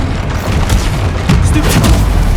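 Confringo blasting spell explosions in Hogwarts Legacy, loud heavy booms with crackling bursts rolling into one another in quick succession, dense and close.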